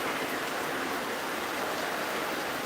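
Heavy afternoon downpour, a dense, steady hiss of rain falling on surfaces, unbroken and even across the whole stretch with no voices.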